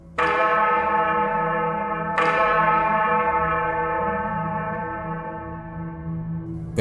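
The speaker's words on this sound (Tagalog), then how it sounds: "Nagising ako sa tunog ng mga kampana." Church bells ring out loud and resonant, with two strong strikes whose long humming tones linger and slowly fade.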